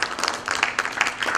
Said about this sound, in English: Let's put a round of applause for the BTKM